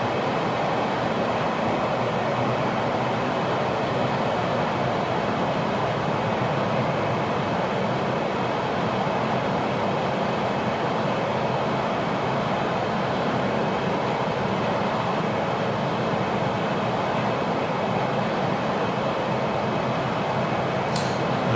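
A P-51D Mustang in Microsoft Flight Simulator drones steadily with a continuous broadband engine roar, loud and unchanging throughout with no breaks.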